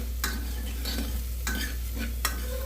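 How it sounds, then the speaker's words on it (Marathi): Onions frying in a pan for mutton curry, with a low steady sizzle under a steady hum and a few quick stirring scrapes, heard close. "त्यासाठी आपण कांदा परतून घेतलेला आहे."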